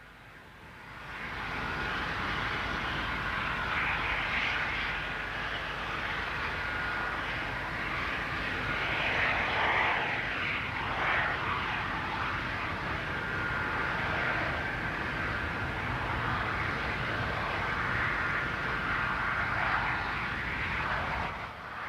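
A Boeing 747 carrying the Space Shuttle on its back in flight, a continuous heavy jet-engine roar holding steady and loud throughout with a faint rising and falling whine.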